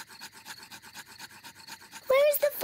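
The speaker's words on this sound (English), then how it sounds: "Daddy Pig is rubbing the two sticks together to light the campfire." Two sticks are rubbed together to light a campfire in a cartoon, making a quick, rhythmic scratchy rasping for about two seconds before a voice begins speaking loudly over the end.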